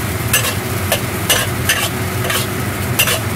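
Yuxiang eggplant is stir-fried in a wok over high heat. A loud, constant sizzle fills the clip, broken by repeated scraping strokes of a spatula against the metal, and no one speaks.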